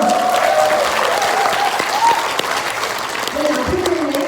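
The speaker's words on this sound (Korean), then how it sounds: "다시 한번 박수 주시고요" An audience at a cosmetics business presentation gives a steady round of applause, dense clapping filling the room from start to finish with a few voices mixed in.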